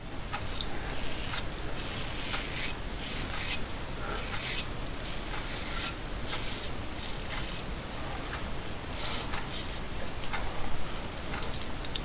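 A Gemini open-comb safety razor fitted with a Nacet blade shaves skin lathered with artisan soap, producing repeated close, dry scratchy strokes in an uneven rhythm with short pauses between passes and no talking.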